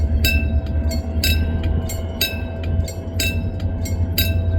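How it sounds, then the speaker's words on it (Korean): A two-car Mugunghwa train bound for Yeongju, just departed Yecheon station, rolls across the Hansucheon railway bridge at low speed with a steady rumble and sharp wheel clacks about once a second, close by and alone. "예천역을 발차한 김천발 영주행 열차가 이곳 한수천 철교를 건너 종착역으로 향합니다."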